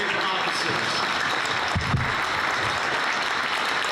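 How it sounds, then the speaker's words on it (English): A crowd applauds police officers at a high school women's varsity basketball game in a gym, steady distant clapping filling the space with a brief thump in the middle. "A round of applause for our brave officers."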